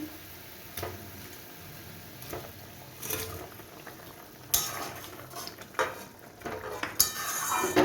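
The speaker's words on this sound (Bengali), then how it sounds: "দেখুন আমার গ্রেভিটা সম্পূর্ণ ফুটছে। এইবার আমি এর মধ্যে কোপ্তাগুলো দিয়ে দিচ্ছি।" Raw-banana koftas go into a pot of gravy at a full boil, soft bubbling under sharp clinks of spoon and pot with a few louder splashing knocks as each goes in.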